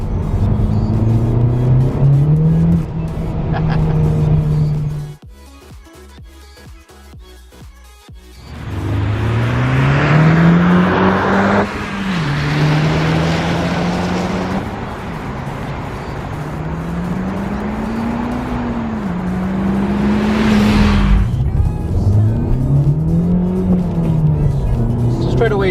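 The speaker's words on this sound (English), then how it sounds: "Straight away setting off there, first gear, gave it like a quarter throttle" A Honda Civic Type R on new wheels with taller-sidewall tires pulls away in first gear at light throttle in sport mode, its engine note rising steadily and fairly loud, with a few brief gaps, under a speaking voice.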